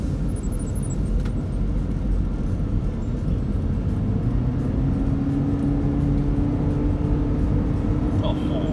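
A Toyota Prius 1.8 Hybrid, a used customer car, takes a curve, its steady road and tire roar heard from inside the cabin with a rising engine tone, no voices.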